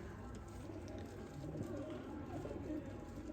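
Breeder pigeons, a slate-coloured male among the pure and cross-bred pairs kept at home, coo in low repeated bursts through a steady background murmur, with speech-like noise faintly present.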